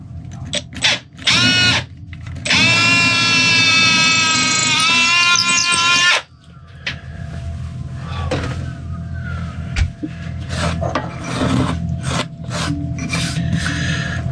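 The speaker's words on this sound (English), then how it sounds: "I'm just going to drill a hole down through the dash" A power drill bores a hole down through a boat's dashboard, a loud high whining burst of a few seconds among short rasping and scraping sounds, followed by quieter rubbing and knocking of tools.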